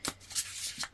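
Tarot cards are shuffled in a quick, close riffle: soft papery flutters and slides in a few bursts, with no talking.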